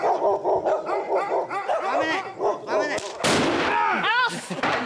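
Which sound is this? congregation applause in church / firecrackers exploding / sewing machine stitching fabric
firecrackers exploding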